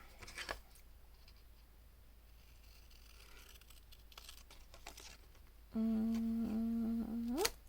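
Pinking shears cut paper for a handmade journal in a few crisp, scattered snips. Near the end a loud steady electronic tone cuts in, and there is no talking.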